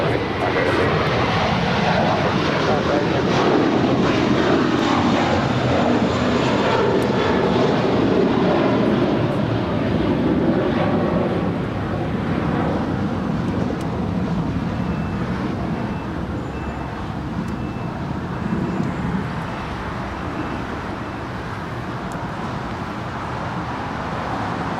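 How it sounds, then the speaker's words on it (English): A Boeing 747 jet airliner touches down at LAX with a loud, sustained broadband engine roar that eases slightly over the landing roll, while a voice talks over it. "We just had that 747 touching down."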